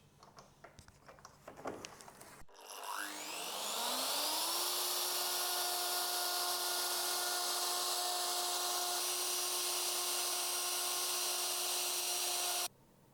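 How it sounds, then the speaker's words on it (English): A router fitted with a bearing bit trims the edge of an epoxy table, spinning up with a rising whine into a loud, steady high-pitched cutting roar that holds for several seconds before cutting off abruptly. "the final small edge that is left I will do with a bearing bit"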